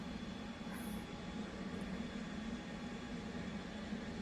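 An F/A-18 engine spools up in the DCS flight simulator, a faint, steady low jet rumble and whine that holds evenly throughout.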